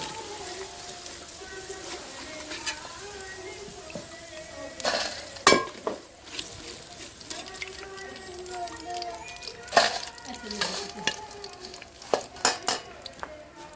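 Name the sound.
taking fried French fries out of the pan into a vessel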